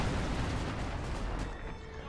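Dense rumbling barrage of artillery fire in the World War II strategy game Company of Heroes 2, a continuous loud booming wash with overlapping blasts that thins slightly toward the end.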